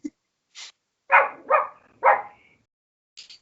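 Three loud, close dog barks in quick succession, with softer yips and whimpers before and after in otherwise quiet surroundings.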